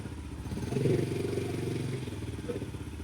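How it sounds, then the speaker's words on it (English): Yamaha TTR50 dirt bike engine idling unevenly, a steady low throb that swells briefly then settles into a rough, slightly wavering putter, heard up close with no talk. "It doesn't idle very good."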